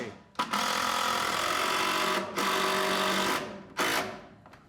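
Driving a 5.5-inch heavy-duty structural screw wood to wood with a power driver, three loud sustained buzzing runs separated by short pauses, close and alone.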